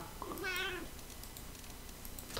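A cat gives one clear rising-and-falling meow near the start, fairly close, followed by quiet room tone.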